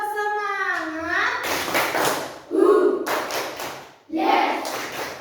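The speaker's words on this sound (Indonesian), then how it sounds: "Tepuk semangat." Children in a classroom do a rhythmic spirit clap in quick bursts of hand claps and taps, with a brief voice at the start and short pauses between rounds.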